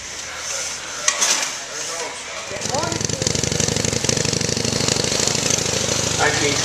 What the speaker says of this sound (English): It's a J series engine.